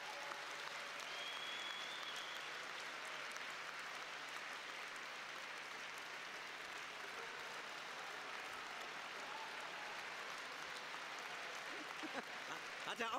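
Audience applause at a political speech by a Die Linke politician, a faint, distant, continuous wash of crowd clapping sustained throughout without break.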